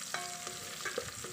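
Onion sautés in a hot pan after garlic while being stirred, a soft steady sizzle broken by several light scraping strokes of the spoon, close and without talk.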